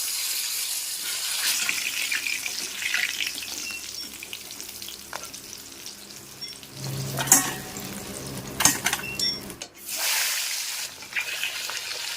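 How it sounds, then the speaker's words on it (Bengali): Catla fish heads frying in a kadai of plentiful hot oil, a steady close sizzle with bursts of spattering and stirring, then a brief lull before the crackle resumes. "তেল খুব ভালোভাবে গরম হয়ে গেছে মাছের মাথাগুলিকে ভেজে নেব"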